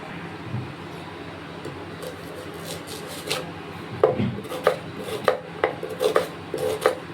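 A knife cuts onions and tomatoes on a board for a dhaba-style matar paneer, giving a string of sharp, close chopping taps that grow denser in the second half, with a low room murmur beneath.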